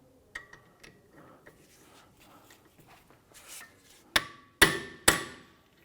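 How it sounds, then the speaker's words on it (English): An impact driver loosening the rotor retaining screws on a 2004-2008 Acura TL rear brake hub, with light taps followed by three loud, sharp hammering bursts near the end, close up. "use our impact driver here to loosen those screws"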